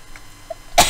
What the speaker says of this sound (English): every time I press that record button I sneeze